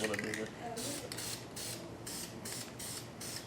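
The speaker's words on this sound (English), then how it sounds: "I get excited with spray paint though." Spray paint can hissing in repeated short bursts during an outdoor patio refresh, several evenly spaced sprays over steady background, with people talking.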